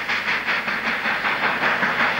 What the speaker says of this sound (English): The Flying Scotsman train seen here on the Bassendean Strait and passing Midvale.